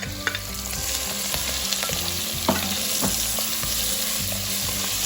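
Onion frying in a pot as the base of an Italian-style lentil soup, giving a steady close hiss with scattered clicks from stirring and no talking.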